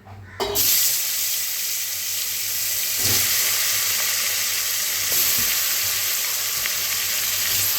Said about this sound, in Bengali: কড়াতে তেলটা গরম হয়ে গেছে, তেল বসিয়েছি। এবার মাছটা দিয়ে দিলাম।